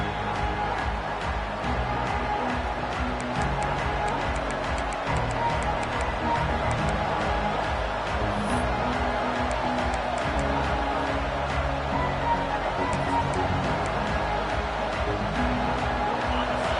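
A stadium crowd roars in a College Football 26 video game featuring Michigan vs. Ohio St., making a dense, continuous loud wash of noise that holds steady throughout.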